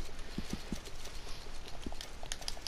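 Horse hooves clip-clop in Red Dead Redemption 2, a few quick hoofbeats near the start and another later, soft and fairly faint over a low game background.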